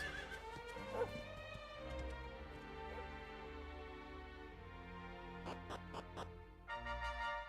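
A horse in the video game Dragon Quest XI whinnies and neighs over a musical background, with clip-clop hoofbeats and bright tapping accents later on, moderately loud and close.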